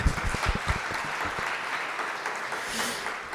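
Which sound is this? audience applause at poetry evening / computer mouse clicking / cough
audience applause at poetry evening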